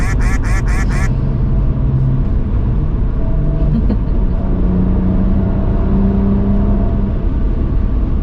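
Four rapid cartoon duck quacks used as a censor sound effect, loud at the start, then a steady engine and road drone from a 2009 BMW 135i with manual gearbox continues alone.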